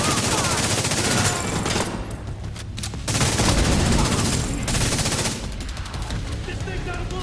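Loud, dense automatic gunfire from the player's weapon in The Division 2, sustained bursts with a brief lull before firing resumes, close and dominant, with faint game voices underneath.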